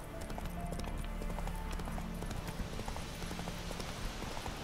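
Horse galloping in The Witcher 3, a steady rapid clip-clop of hooves running continuously and loud over a dense game soundscape, with no talk.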